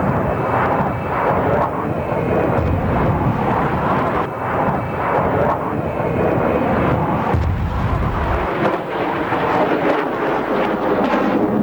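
Military jet aircraft at a 1993 air show in England produce a loud, continuous roar with wind buffeting the microphone, the engine noise shifting in pitch as the jets pass.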